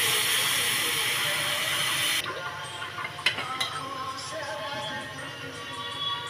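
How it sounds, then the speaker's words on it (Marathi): A spiced dish with cumin, asafoetida and black pepper boils in a pot, giving a loud steady steam hiss that drops abruptly to a softer bubbling simmer with occasional clinks. "त्याला उकळी आलेली आहे"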